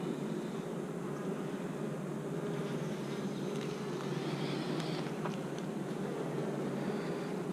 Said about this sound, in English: These bees do seem to be extremely calm, all things considered.